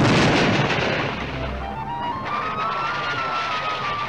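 A cartoon explosion of talcum powder goes off as a loud, broad blast that fades into a rumbling, hissing decay, with a faint rising whistle tone trailing through the end.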